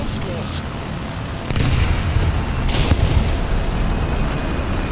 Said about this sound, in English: I hear a bomb.